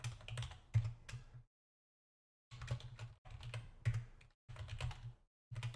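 Computer keyboard typing while filling out a web sign-up form, close clattering keystrokes in four or five bursts separated by short silent pauses.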